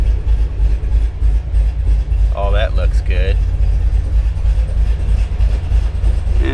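An engine idles during fuel system testing after a fuel pump modification, running untuned and slightly lean. A steady, low, close rumble continues under a man's brief speech.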